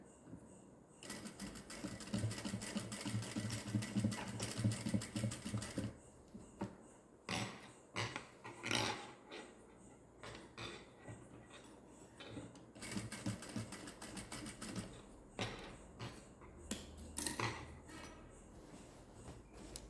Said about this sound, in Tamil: இந்த மாதிரி பண்ணி ஸ்டார்ட் பண்ணுங்கள் தைக்கிறதுக்கு